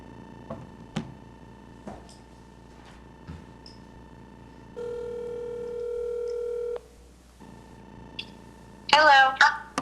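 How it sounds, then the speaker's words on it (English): A telephone dialed on speakerphone during a school board meeting: scattered key beeps, then a long steady tone, then a burst of warbling ring, with faint room noise in between. "For the record, I'm calling Director Bettinger on the phone"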